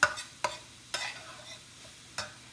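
Spices frying in a pan over lowered heat while being stirred, a few sharp scraping strokes spaced about half a second to a second apart over a faint, steady sizzle, close by and with no voices.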